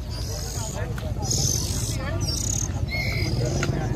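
Young caged songbirds at a songbird market give repeated high chirps and calls over a busy, murmuring crowd, the cheeps clear and fairly close above the background talk.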